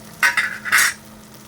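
Masala dry-roasting in a pan over low gas: three short, close scraping stir bursts in quick succession over a quiet background, with no talking.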